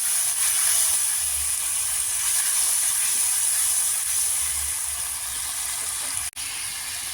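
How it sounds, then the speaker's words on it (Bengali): Chili paste frying in a pan for a Bengali magur (catfish) curry with ginger paste, giving a steady, loud hiss and sizzle throughout with a brief dropout near the end. "এবারে এর মধ্যে দিয়ে দিচ্ছি লঙ্কা বাটার যে পেস্টটা আমি তৈরি করেছিলাম সেটা এর মধ্যে দিয়ে দিলাম"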